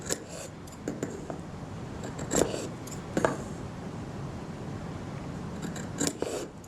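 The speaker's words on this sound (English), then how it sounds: "we are going to clip some of our seam allowance out, but we are not going to cut through the stitching" Scissors snipping the seam allowance at the corners of a sewn fabric cord keeper, heard as several short, sharp clips spaced irregularly over a soft background, with no talking.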